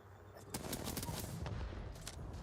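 Gunfire from an Apex Legends battle royale match in a competitive ALGS tournament, a dense continuous spray of rapid shots over a busy background with no clear gaps between bursts.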